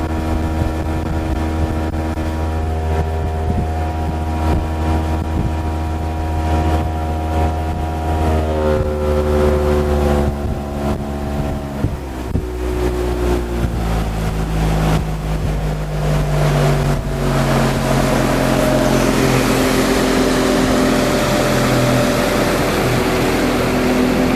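A 2022 Mercury 60hp outboard on a Starcraft boat runs continuously and loudly nearby, its steady drone shifting pitch as the throttle changes, with wind buffeting the microphone and no talking.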